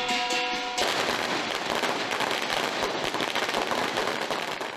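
Rapid strings of firecrackers crackle and pop near a wishing tree at a Lunar New Year gathering in Lam Tsuen, Tai Po, a dense, continuous burst of bangs after a brief tonal sound at the start.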